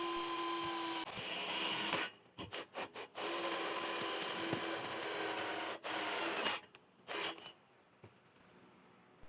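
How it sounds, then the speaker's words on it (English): A drill with a metal bit grinds bolt holes through a steel desk frame, a steady, loud, harsh buzzing run broken by short stops and restarts, then a final burst before it winds down. "I switched to a drill bit for metal to create our bolt holes."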